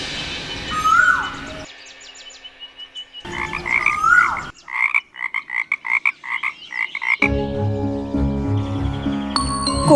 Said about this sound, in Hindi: किंतु फिर मेंढकों ने टर्राना आरंभ किया